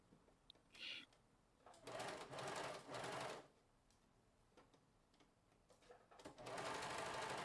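A sewing machine stitches lace trim into the edge of a cuff, running in several bursts of steady rapid whirring separated by short pauses, close and clear, with no talking.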